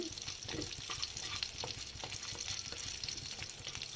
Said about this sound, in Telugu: మన జీడిపప్పు చట్నీకి పోపు ఇది